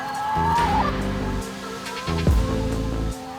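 Chickens cluck and squawk nearby on an agroforestry farm among trees, several calls overlapping in short bursts, with a sharp higher cry near the start.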